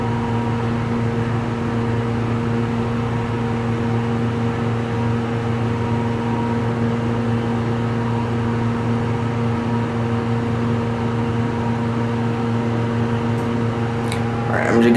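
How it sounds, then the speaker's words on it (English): A General hydraulic elevator with Oiltronic controls at a beach resort runs with a steady, loud motor and pump hum carrying sustained low tones, continuous throughout, with a brief clatter near the end. "General elevator, obviously Oiltronic."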